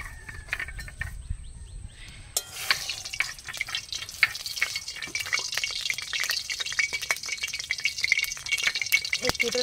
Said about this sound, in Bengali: এই কেটে রাখা আলু দিয়ে দিলাম তেলের ভিতরে।